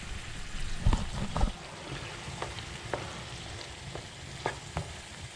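Shrimp sizzle softly in a hot pan with salt, with scattered scraping taps as they are stirred, close and fairly quiet, no talking.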